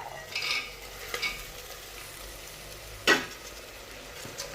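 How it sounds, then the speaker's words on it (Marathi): Yellow peas and peanuts being stirred and fried in a pan for masale bhat, a soft continuous sizzle with faint scraping and one sharp clink of a utensil against the pan, close but quiet. "आता इथे मी पिवळे वटाणे आणि शेंगदाणे टाकून घेत आहे"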